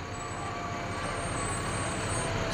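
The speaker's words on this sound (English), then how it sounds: "Dave is coming our way in the ladder truck" A fire department ladder truck idles and rumbles to a halt during an autumn parade, a low steady engine drone with a faint high whine above it, swelling slightly at the very end.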